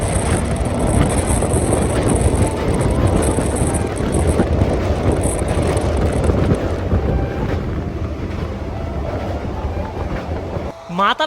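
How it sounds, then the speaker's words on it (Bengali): An express train running from Sealdah to Santiniketan roars along at speed with a loud, steady rumble and rattle and buffeting wind noise, which cuts off abruptly near the end. "এক্সপ্রেসের গতি দেখতে পাচ্ছেন আপনারা"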